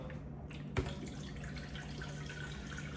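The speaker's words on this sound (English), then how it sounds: "to the blender, I'm going to add 2 cups of water" Filtered water streams into a blender jar, a steady gurgling pour with a single knock near the start, faint and close.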